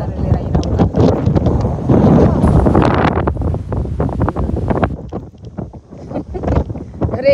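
Strong wind blowing across an open park, roaring loudly and buffeting the microphone in heavy gusts that rise and fall, with a person talking over it.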